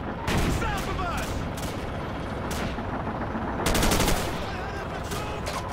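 Dense, continuous gunfire in the Call of Duty 4: Modern Warfare video game, a sustained roar of overlapping shots and bursts with a louder flurry near the end, heard alone without talk.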